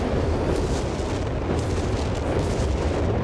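Whizbang rocket artillery barrage from Company of Heroes 3 landing on Panzer Grenadiers, a dense, continuous roar of overlapping explosions and rumbling blasts, loud and sustained without a break.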